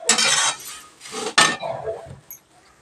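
Fried poha is tossed with salt and chili powder in a pan, with loud metallic scraping and clinking of a spoon in bursts that fade to quiet.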